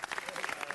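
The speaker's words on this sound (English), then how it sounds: "if we could give it a round of applause to these great people" A round of applause from the audience at a city council meeting, steady dense clapping throughout a brief burst, fairly faint and distant.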